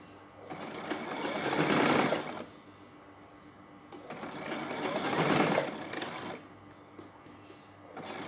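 A sewing machine stitches fabric while a collar is being sewn, running in two sustained bursts of mechanical whirring with a short pause between them, close and fairly loud with no talking.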